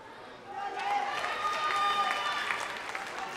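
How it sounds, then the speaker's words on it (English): Home crowd at a table tennis match in the South African Open, a broad wash of cheering and applause swelling after half a second and holding steady, fairly loud and close. "you can hear the home crowd is really throw their voices behind Jade and Denisha"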